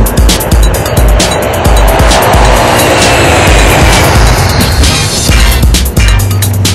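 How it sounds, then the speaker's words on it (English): A GE LM6000 combustion turbine, essentially a Boeing 747 jet engine, running inside a power plant: a loud, continuous, dense roar with a high whining edge, steady for the whole stretch. "The LM6000 combustion turbine is basically a Boeing 747 jet engine."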